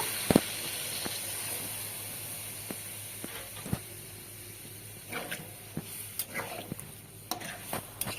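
Sautéed potatoes in a pan give a faint, low hiss with scattered stirring taps and brief splashy bursts later on, quiet and without talk.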